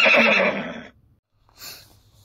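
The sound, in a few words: horse neighing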